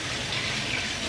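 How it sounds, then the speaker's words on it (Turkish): Water running steadily from a tap while hands are washed, a close, even hiss of flowing water lasting the whole moment without voices. "Ben elini yıkıyorum."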